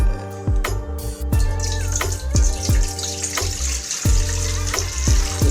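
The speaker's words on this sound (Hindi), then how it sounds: "अब इस छाननी की मदद से हम इसे छान लेंगे।" Boiled jaggery syrup strained through a sieve gives a steady liquid pouring and trickling sound, with repeated tapping knocks of the sieve or utensil at irregular intervals.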